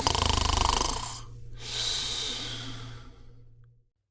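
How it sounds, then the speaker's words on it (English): A drunken, sleeping Thor snoring in his empty palace, a loud rasping in-breath followed by a long rumbling out-breath, close and alone, fading to silence. "His snores thundered through his empty palace as Dan, Felicia, and Jeepers entered."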